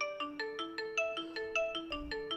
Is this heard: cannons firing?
no